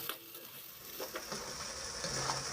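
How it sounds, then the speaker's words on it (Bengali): Spices with chili powder being stir-fried in a pan for a Bengali rohu fish curry with potato and cauliflower: a steady low sizzle with light scraping stirs running throughout, moderately close, with no voices. "এবার সব কিছুকে খুব ভালো করে কষিয়ে নেব।"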